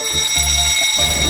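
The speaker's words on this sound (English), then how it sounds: "Right, the fire alarm." A fire alarm rings loudly and continuously, a harsh electronic tone with a pulsing low buzz beneath it, filling the whole short moment with no voices.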